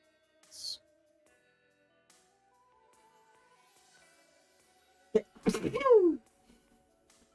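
A single sharp sneeze bursts out near the mic, followed by a short trailing vocal tail, after a long quiet stretch with faint game sounds in the background.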